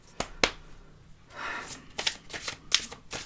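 Oracle cards shuffled by hand for a morning reading: several crisp riffling bursts and soft slaps of the deck, close and fairly quiet, in short uneven bursts with brief pauses and no talking.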